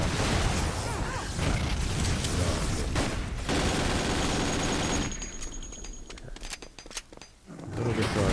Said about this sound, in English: The side guns and my bot are firing before I even know what's happening